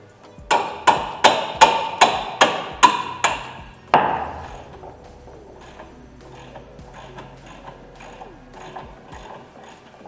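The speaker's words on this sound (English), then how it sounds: "You will need your hammer for this." A hammer strikes the brake caliper bracket bolts on a 2013 Chevy Equinox, eight sharp metallic taps in an even rhythm, close and loud, followed by lighter ringing knocks and clatter.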